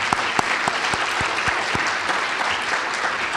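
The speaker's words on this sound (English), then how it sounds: "could I just have everybody here give another round of applause to all of the wonderful speakers" Audience at the 2012 ADAO AAPC conference applauding its morning speakers: dense, steady clapping from a crowded room, sustained without a break and with no talk.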